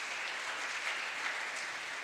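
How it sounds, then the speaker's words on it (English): An audience at a science network meeting applauds steadily, a dense, even wash of clapping from many hands that fills the room at a moderate level with no voices over it. "So a round of applause, please,"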